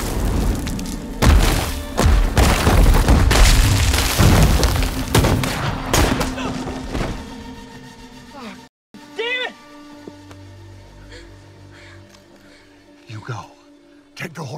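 Gunshots in a 2020 Western drama film, heard as several sharp, loud booming cracks in the first half amid rumbling action, followed by a quieter stretch with a cat-like mewing cry and a final thud.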